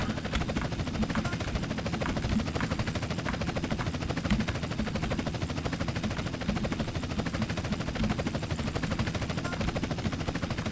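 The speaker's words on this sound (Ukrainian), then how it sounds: "І в нас гелікоптер Це, як сказати, служби новин." A news helicopter flies in GTA San Andreas, its rotor chop a steady, dense drone running the whole time alongside constant game mechanical noise, with no talking.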